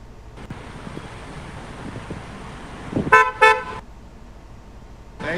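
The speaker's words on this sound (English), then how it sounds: "honking at you guys." Car horns toot twice in quick succession on a city street, short sharp blasts standing out over steady wind noise and traffic rumble, with a further faint honk at the end.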